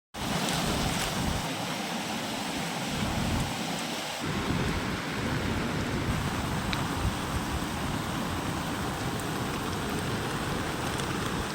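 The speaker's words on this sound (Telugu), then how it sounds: "నీళ్లు ప్రవాహంగా ప్రవహిస్తుంది" Floodwater rushing during heavy rain from Cyclone Montha in Mahabubabad district, a loud continuous roar of flowing water and downpour that holds steady from start to finish with no voices.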